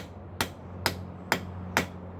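Ball pein hammer strikes on hot steel while tapering the edge of a hot cut tool for a treadle hammer, four sharp evenly spaced ringing blows at a steady rhythm, close and clear over a low background hum.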